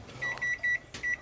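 A microwave oven sounds a run of four evenly spaced electronic beeps as a pizza finishes cooking, with a soft clatter between them.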